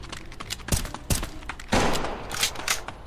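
Video game gunfire from a Hi-Point gun in a South Bronx setting comes as bursts of rapid, loud shots and thuds across a few seconds, with no talking.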